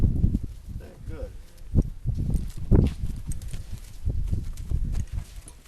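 An unhalter-broke colt walks forward during groundwork, its hooves striking in a few irregular, muffled thuds close by, with someone talking over them.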